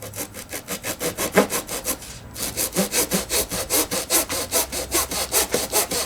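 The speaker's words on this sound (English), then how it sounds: "get the trusty razor saw out, swing camera around, and let's perform the cut" A fine-toothed razor saw cuts through a model aircraft fuselage, giving steady, close rhythmic back-and-forth rasping strokes with a brief pause partway through, no talking.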